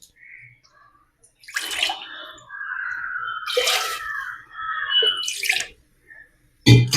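Water poured into a pot while cooking drumstick leaf kootu with turmeric and salt, arriving in three short splashing bursts separated by quiet pauses, close and fairly loud.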